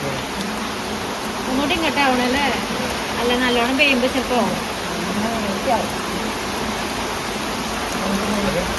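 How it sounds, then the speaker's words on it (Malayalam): Constant hiss of heavy rain pouring down, with people talking over it for a few seconds. "നല്ല പെയ്യുണ്ട് ആലിപ്പഴം ചാടുന്നുണ്ടോ നോക്കിയാണ്"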